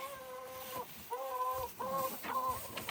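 Chickens in a coop of boxes in Talkeetna in November, clucking in a series of drawn-out, tonal calls, close and clear, with short gaps between them and no talking.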